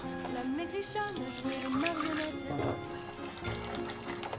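Amber rum is poured through a sieve into crêpe batter, a soft liquid trickle and splash heard close by under a person talking.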